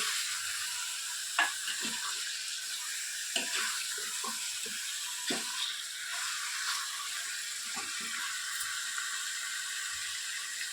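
Steady bubbling sizzle of chicken fry cooking on high flame in a hot pan as its water dries off, with occasional soft clicks and scrapes of stirring, no voices.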